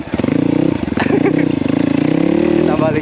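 Off-road trail motorcycle revving hard during a wheelie, a loud, steady close engine drone with rising and falling pitch throughout, with a voice talking over it.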